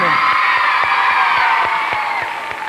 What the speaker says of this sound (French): On applaudit les jaunes!